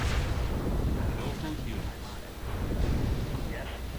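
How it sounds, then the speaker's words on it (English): Turrets blown up in a video game, a dense run of low rumbling blasts and booms that keeps going for the whole stretch, loud and continuous, with no voice over it. "I blow up those turrets."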